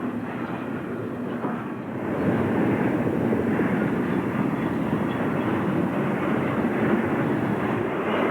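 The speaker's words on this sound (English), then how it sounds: "This trailer train is headed to Boston" A freight trailer train rolls steadily past on the Boston & Albany Line in Massachusetts, a continuous loud rumble of railcars that swells slightly after the first couple of seconds and holds without a break.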